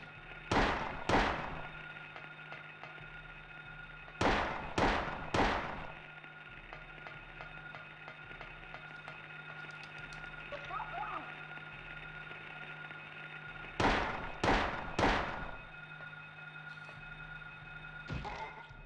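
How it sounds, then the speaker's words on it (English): In the Silent Hill video game, inside Midwich Middle School, someone bangs on a radiator: clusters of two or three loud metallic clangs repeat at intervals over a low steady hum, with no talk. "Somebody's banging on a radiator."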